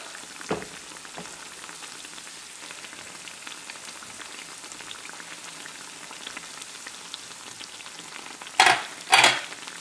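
Wheat-coated banana fritters, Kerala pazhampori, deep fry in hot oil with a soft, steady bubbling crackle, ending with two louder bursts of sputtering.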